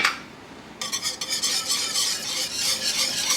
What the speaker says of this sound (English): And then immediately start whisking so we get no clumps of flour